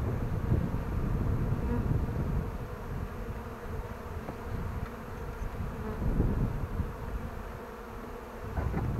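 Honey bees from an opened hive buzz close by in a dense, continuous drone, with individual insects swelling louder and fading as they pass during a summer hive inspection.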